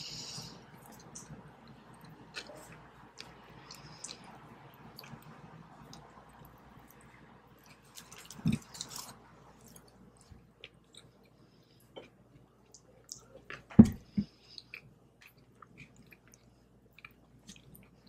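In-N-Out fries being chewed close up in a quiet mukbang give soft, intermittent squishy bites and mouth sounds, with a few sharper clicks spaced apart.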